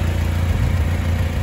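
A lowered Honda Civic EK engine idles steadily, a close, even low rumble with slight pulsing and no voices.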